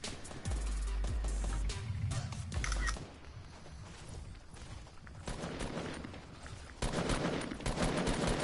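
Gunfire from a first-person shooter video game played on keyboard and mouse, with dense bursts of rapid shots and booms, loud at the start and again near the end, without talk.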